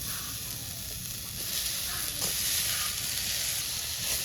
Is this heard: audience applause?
no